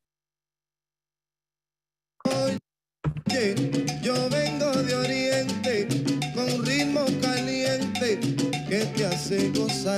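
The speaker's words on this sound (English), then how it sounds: "Then you might hear the sound of a Latin beat, and it might sound something like this." Upbeat Latin music plays after a brief silence and a couple of short starts, with a singer's vocals over a lively, dense rhythmic beat.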